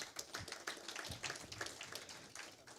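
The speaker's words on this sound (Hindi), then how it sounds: "जोरदार तालियां इनके लिए।" Audience applause rises at a song launch event. Quiet, crisp clapping from a modest crowd is heard as rapid, scattered hand claps overlapping in an uneven rhythm.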